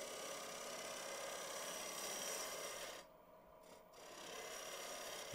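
A bowl gouge cuts wood on a spinning lathe while turning a segmented box, giving a steady close rasping shave that cuts out for about a second as the tool lifts, then resumes.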